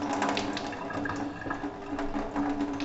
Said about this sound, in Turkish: Bir saat sonra arıtmanın çeşmesini açarak